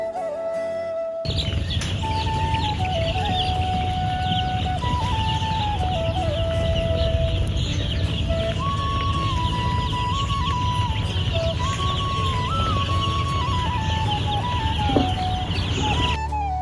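A crowd of baby chicks on a farm chirping without pause, shrill peeps overlapping close up and continuing throughout.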